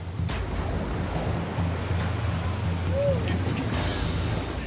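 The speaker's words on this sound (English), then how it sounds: "The waves are pounding both lifeguards and their victims." Heavy ocean waves pound the water around a lifeguard rescue boat on a rough red-flag day, making a steady, close roar of surf with a low engine hum running underneath.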